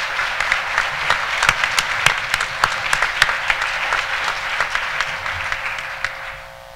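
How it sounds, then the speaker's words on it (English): Audience applause for the sponsors at the Vermont Housing & Conservation Board fall conference: dense, steady clapping from a large crowd in a hall, sustained for several seconds before tapering off at the end. "So let's give our sponsors a big round of applause."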